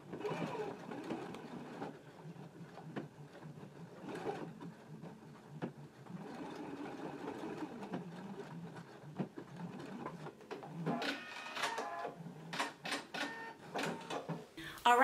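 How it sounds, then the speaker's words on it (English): A sewing machine stitches along the folded edge of fabric side carriers, running in bursts of rapid mechanical whirring, fairly quiet with short pauses and handling noise between runs. "I'm going to stitch right along the folded edge of the carriers"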